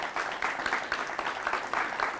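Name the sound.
audience applause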